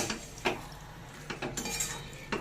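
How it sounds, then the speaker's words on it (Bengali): Lote fish (Bombay duck) being stirred together with vegetables in a pan with no added water, a few close clinks and scrapes of a spoon against the pan over a faint background. "এবার ভালো করে মাছগুলোকে ওই সবজির সাথে মিশিয়ে নেব"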